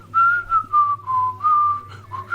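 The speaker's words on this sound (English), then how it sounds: "You hear him whistling." A man whistles a wavering melody at the end of a song, in several sustained phrases over a low backing drone, clear and up front.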